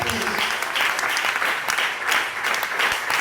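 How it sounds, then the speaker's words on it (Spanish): A church congregation during a Bible study gathering breaks into warm applause, a dense swelling clapping from many people in a room, loud and sustained across the whole moment. "Regálale un aplauso al Señor."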